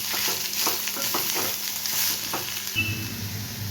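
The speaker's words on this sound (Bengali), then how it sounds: "এদিকে লাউটা ভাজা হতে থাক" Bottle gourd fries in a pan with a steady close sizzle and occasional stirring scrapes, and a low steady hum joins near the end.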